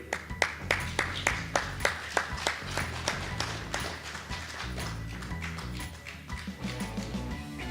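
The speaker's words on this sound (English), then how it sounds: "Let's put our hands together for Casimba Irosvani Duvergel." An audience at a boxing press conference claps and applauds steadily for several seconds, a dense crowd sound with sharp individual claps standing out near the microphone.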